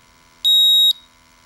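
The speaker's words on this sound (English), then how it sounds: "You'll see a 5-second countdown with audible and visual alarms." A Ventis MX4 four-gas monitor sounds its shutdown countdown alarm, one loud, shrill electronic beep lasting about half a second, heard alone in a quiet room.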